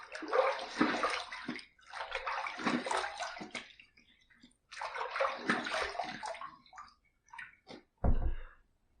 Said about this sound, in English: Okay, second pass done. Let's rinse.